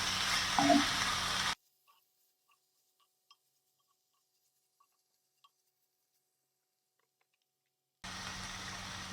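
Pepper chicken cooks dry in a pan with no added water, giving a soft steady sizzle that drops into near silence and then returns briefly.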